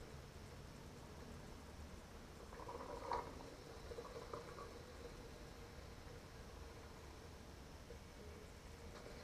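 A Coleman propane coffee maker brews its first pot of plain water, giving off a faint, steady boiling hiss and bubbling with a soft gurgle partway through, continuous and quiet, no voices.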